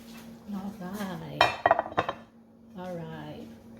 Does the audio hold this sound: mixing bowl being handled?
yes